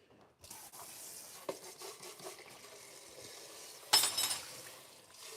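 A glass container used to hold fish food is rinsed out with room-temperature water, with faint running and swirling water, soft clinks and a louder splash toward the end.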